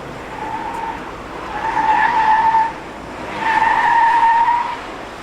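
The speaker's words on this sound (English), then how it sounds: "so a little bit of tire noise is good." Tires of a Saab Aero squeal in two long, high-pitched bursts while sliding, each rising out of a steady background rumble of the car and lasting about a second or more.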